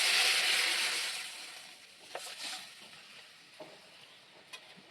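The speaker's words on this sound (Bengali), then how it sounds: "জল দিয়ে দিচ্ছি" Water hits a pan of frying green and dried red chilies in a village kitchen, opening in a loud hissing sizzle that fades over a couple of seconds, followed by a few sharp stirring clicks and scrapes.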